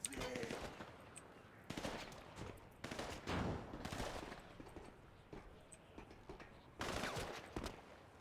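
Bursts of rapid video game gunfire in several separate volleys, some dense like machine-gun fire, set against quieter gaps at fairly low overall volume.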